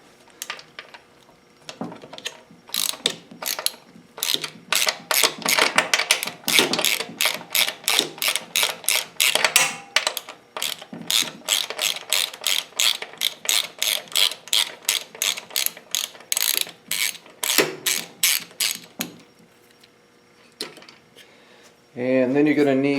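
A ratchet loosening a 14mm crank bolt on a Walmart GMC bicycle while a Bafang BBS02 750W mid-drive motor is being fitted: rapid, loud pawl clicking in long rhythmic runs, close to the mic, ending abruptly.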